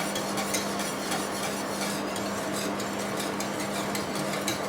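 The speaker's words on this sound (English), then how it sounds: "I keep stirring it just so it doesn't stick on the bottom" Parsley sauce is stirred in a pan, a continuous close scraping and swishing with faint repeated utensil strokes against the bottom over a low steady hum.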